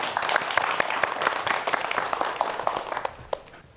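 An audience claps for a professor about to give an earthquake lecture, a lively burst of individual claps that is distinct and fairly close, then gradually thins out and fades near the end.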